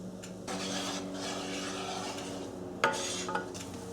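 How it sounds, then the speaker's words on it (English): A utensil stirs garlic chips through melted butter in a large pan, giving a close, continuous scraping sizzle with a few sharp clinks of metal against the pan. "When your butter or oil is ready, add the garlic and start stirring."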